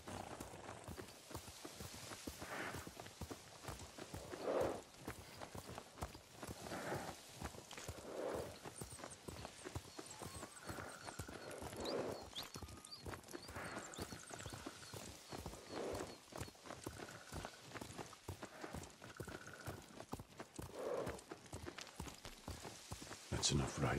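Horse hooves clip-clop in a steady walking rhythm during a ride in Ghost of Tsushima, with rain falling and an occasional whinny, while characters talk over the hoofbeats.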